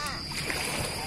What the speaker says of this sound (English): Stepping in the water.